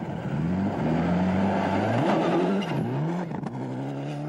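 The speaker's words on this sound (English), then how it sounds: "Armin Schwartz still pushing hard, still learning fast in his Toyota." Armin Schwartz's Toyota rally car racing through a Swedish blizzard at the 1995 World Rally Championship, its engine revving hard and loud close by, the pitch climbing and dropping through gear changes.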